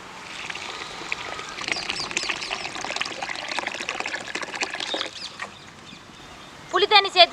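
Water poured into a pan while cooking a cluster beans curry in a village kitchen, a steady splashing and trickling wash for about five seconds that fades, followed by brief clucking from nearby chickens.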